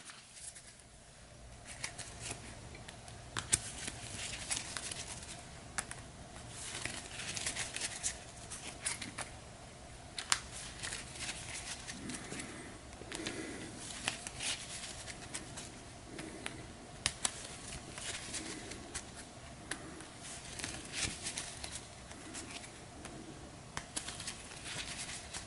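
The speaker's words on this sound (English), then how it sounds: "we'll give this another shuffle up." A deck of cards for the board game Cartographers is shuffled, giving a steady, faint stream of soft riffling and patter that keeps going through the whole stretch with small clicks.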